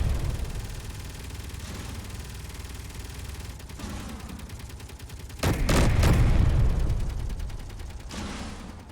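Gunshots in the video game Assertive Combat Systems, with a loud cluster of sharp blasts about two-thirds through over a steady rumbling background, and no talk.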